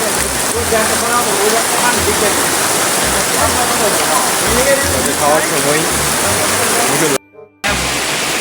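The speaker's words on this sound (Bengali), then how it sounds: "কিছুক্ষণ পরে মুষলধারা বৃষ্টি শুরু হয়েছে" A heavy downpour of rain pours down in a loud, dense, continuous roar of drops close by. A few words are spoken over it, and the sound cuts out briefly near the end.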